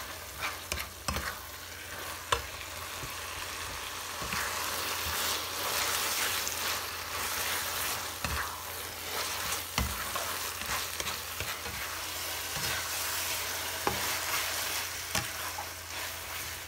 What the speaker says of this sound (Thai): ผัดให้เส้นนุ่มนะคะให้เส้นนุ่มเลย